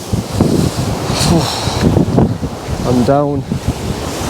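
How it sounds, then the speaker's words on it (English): Strong wind roars and buffets the microphone at a rocky seashore at night, with surf rolling in underneath and a person talking briefly over the gusts. "It's so windy."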